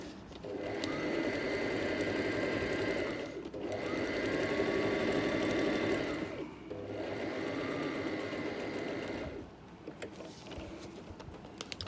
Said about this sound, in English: that's sewing